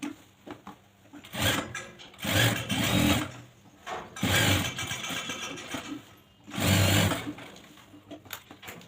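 A sewing machine stitches the back pocket of a pair of pants, running in three loud bursts of rapid needle clatter separated by short pauses with quieter handling sounds.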